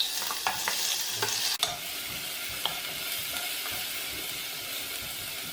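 Chopped medium onions sauté in a hot pan for rice with tomato and egg, a steady loud sizzle with a few sharp clinks of stirring near the start, and no voices.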